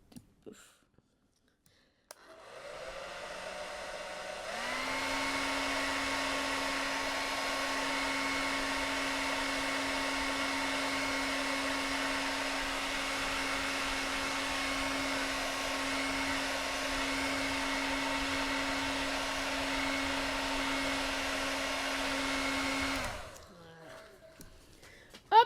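A hair dryer blows steadily for about twenty seconds to dry a watercolor landscape painting, switching on with a loud constant whir and cutting off near the end, up close with no talking.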